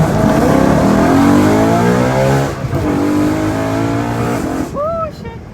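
A straight-piped BMW E93 M3 with OEM muffler accelerates hard past in a loud flyby, its V8 rising in a high-pitched wail through the gears before fading into a brief tire squeal as it passes.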